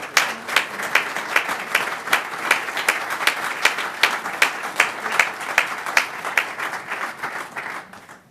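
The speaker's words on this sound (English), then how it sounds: "How about another round of applause?" Audience applause at a regular school board meeting, a steady wash of many hands clapping with scattered sharper claps, sustained for several seconds before thinning out near the end.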